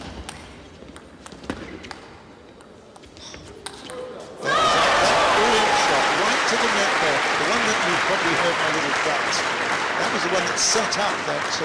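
A crowd at a women's table tennis final in Russia breaks into sudden loud applause after a few ball pings, the clapping sustained and dense while a commentator talks over it.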